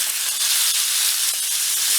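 Chicken thighs searing in hot grease in a pan, a dense continuous bright sizzle and crackle with small pops, close and loud, steady throughout.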